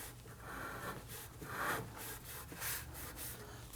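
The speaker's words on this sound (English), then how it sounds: "it's best to go ahead and clean up the brake rotor, get rid of any grease or dirt, debris" A cloth rubs clean the brake rotor of a Nissan Murano during rear parking brake shoe work, with a series of soft, faint rubbing strokes and no talking.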